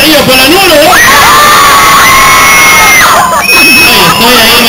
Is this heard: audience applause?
yes